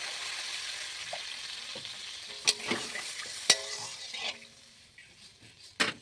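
Spice paste frying in oil in a pan for a Bengali pabda fish curry: a steady close sizzle with sharp clinks of a spoon against the pan at a few moments, and no talking.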